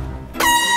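A loud air horn blares suddenly after a brief low rumble during a Minecraft game session, holding a steady, piercing tone to the end.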